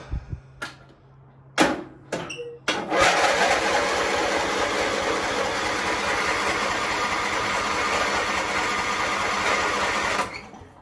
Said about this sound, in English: let's see if it'll start without even the choke